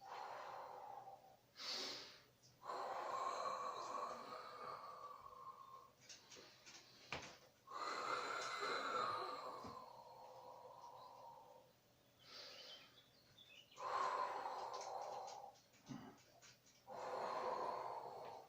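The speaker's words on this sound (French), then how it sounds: "Soufflez. Inspirez. Soufflez." Slow, deliberate breaths during a Pilates exercise, long airy exhales alternating with inhales in a steady cycle, close and soft, with no talking.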